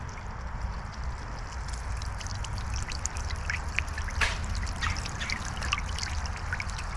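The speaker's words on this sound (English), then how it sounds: "So let me just change this other nozzle so it's not spraying up as high." Water sprays and trickles from the nozzle of a POPOSOAP 70W solar fountain in an outdoor bird bath, a steady close splashing hiss with faint outdoor noise and no talking.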